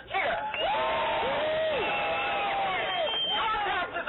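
A political rally audience cheers and applauds on cue, a loud continuous wash of crowd noise with whoops that swells and holds for several seconds.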